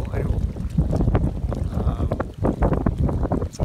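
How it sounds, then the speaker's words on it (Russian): Strong wind buffets the microphone with a constant low roar, gusting throughout, while faint voices come and go beneath it. "очень ветер что-то сильный"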